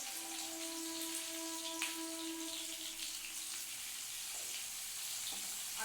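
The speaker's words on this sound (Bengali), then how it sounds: "তেলের মধ্যে দিয়ে দিচ্ছি এই পেঁয়াজটা ভাজা হওয়ার জন্য অপেক্ষা করতে হবে" Soft, steady sizzling of onion frying in oil, with a faint hum in the background and no talking.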